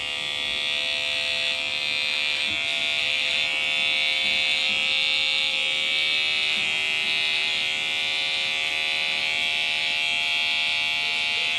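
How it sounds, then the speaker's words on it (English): A TL liner hair trimmer, UK version with a TL liner blade, runs steadily with a close, high-pitched electric buzz and hum, continuous and loud throughout with no talking. "I'm going to be using my TL liners with my TL liner blade on the UK version."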